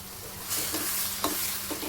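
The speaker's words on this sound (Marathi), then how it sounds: "आणि 5 मिनिटं आपल्याला असंच तेलामध्ये भाजू द्यायचं आहे" Ridge gourd frying in oil in a pan for a Marathi bharit, a steady soft sizzle with a few brief stirring scrapes, close and moderately quiet, no voices.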